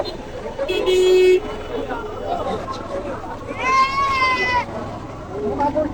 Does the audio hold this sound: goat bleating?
yes